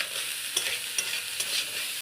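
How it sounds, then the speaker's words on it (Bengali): Cooked rice for egg rice is lightly fried and stirred in a pan, giving a soft sizzle with a few quick scraping stirs, close and alone. "এটাকে হালকা ফ্রাই করে দেবো, গরম হয়ে যাবে"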